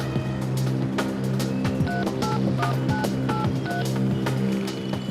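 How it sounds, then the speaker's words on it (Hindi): Touch-tone telephone keypad tones dialing a local call in an Indian TV crime drama: a quick run of short, clear beeps in an uneven rhythm over a steady low background hum. "लोकल कॉल कर रहा है।"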